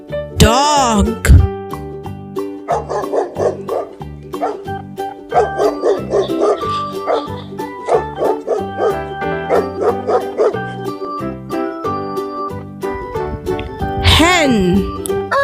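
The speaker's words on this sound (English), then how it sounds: "dog," A dog barking in a children's farm animal lesson: repeated bow-wow barks and yips in a steady rhythm over cheerful background music, with brief speech at the start and end.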